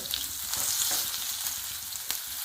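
Raw mango pieces frying with fenugreek seeds and turmeric powder in hot oil, giving a steady, close sizzling hiss with faint stirring crackles throughout a short stretch.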